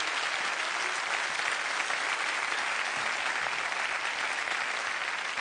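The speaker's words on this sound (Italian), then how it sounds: "fate un po' un applauso agli autori" Studio audience applause on an Italian TV comedy show, a dense, steady wash of clapping from a large crowd that holds at an even level throughout.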